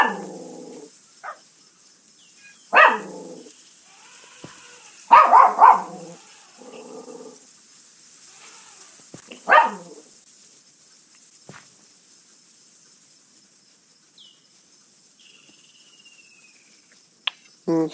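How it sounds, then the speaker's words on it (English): A dog barks outdoors in a few short separate bursts with long quiet gaps between them, moderately close and clear, with no one talking over it. "Barking a bit."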